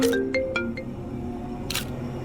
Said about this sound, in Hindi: फोन आ रहा है मेरा